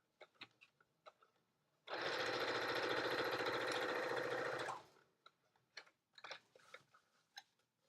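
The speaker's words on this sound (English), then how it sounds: "And then I'm going to sew down, I'm going to leave an opening" A sewing machine stitches a make-up bag in one steady, close run of almost three seconds, with quieter handling sounds before and after.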